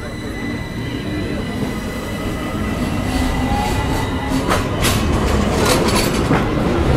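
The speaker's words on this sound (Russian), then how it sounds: "Только что только проехала одно метро, и вот уже второе" A metro train in Istanbul rumbles past with a heavy, building roar and bursts of high metallic wheel squeal, growing louder toward the end.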